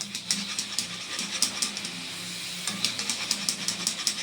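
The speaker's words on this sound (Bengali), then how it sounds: "সুন্দর করে ভেজে নেবে এইভাবে সব ডালগুলো সুন্দর ব্রাউন কালারে ভেজে নেব" Lentils frying in oil at home until brown and crisp, giving a steady close sizzling hiss dotted with small crackles and pops, with no talking.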